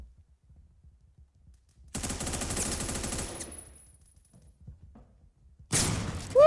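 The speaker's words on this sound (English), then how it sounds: "Shotgun from nowhere." Shotgun fire in the Roblox shooter Phantom Forces: a loud burst of rapid shots rings out for over a second, then quiet, then another sharp blast near the end.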